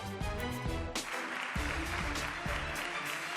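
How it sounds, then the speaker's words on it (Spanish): Sustained applause fills a regional parliament chamber as opposition and government members clap together, a dense, steady roar of many hands that runs unbroken, with a few deeper thumps and some background tones mixed in. "se unieron en un largo aplauso poco habitual en la Cámara"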